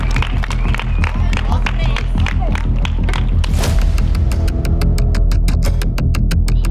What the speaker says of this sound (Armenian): Էլի ծափերով ենք ճանապարհում։